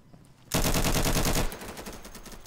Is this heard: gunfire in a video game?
yes